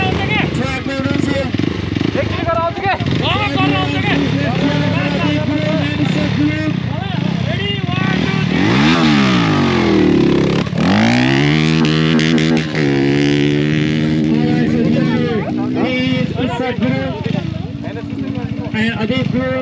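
A Crossfire RMZ 250 dirt bike rides a track at a launch event, its engine repeatedly revving up and dropping back in loud sweeping bursts while people talk over it.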